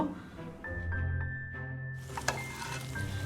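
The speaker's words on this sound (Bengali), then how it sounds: "এগুলো আমি খুব ভালোভাবে উল্টে পাল্টে 4 থেকে 5 মিনিট ভেজে নেব।" Homemade donuts fry in hot oil with a soft steady sizzle, accompanied by clinks of utensils against a pan and a faint background hum.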